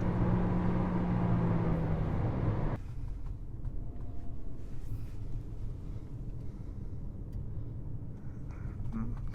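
A 2024 Toyota Corolla Cross XLE engine pulls at three-quarter throttle with a loud droning whine that drops off abruptly after a few seconds, leaving softer road rumble inside the cabin.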